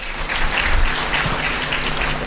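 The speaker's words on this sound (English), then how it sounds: "Maybe please give her a loud round of applause" Conference audience at AI Bharath Utsav 2025 in Hyderabad applauds with a dense, even patter of clapping that holds steady for a couple of seconds.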